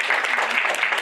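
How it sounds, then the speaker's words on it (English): A school Scholars' Bowl audience applauds with steady, dense clapping for a brief moment. "let's give a nice round of applause to these people."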